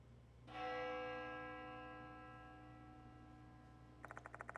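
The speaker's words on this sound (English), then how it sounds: "The sound of a bell echoes in my ears." A single bell in a video game is struck once and rings out with a long, bright, slowly fading tone, then light ticking begins near the end, all fairly quiet.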